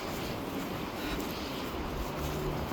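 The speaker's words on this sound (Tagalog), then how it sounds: "pero ang lakas ng hangin." Strong, cold winter wind buffets a microphone outdoors in Scarborough, Canada, a constant roaring rush with low rumbling gusts, no talking heard.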